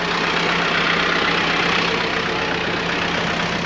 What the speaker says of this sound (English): And ride on the tractor.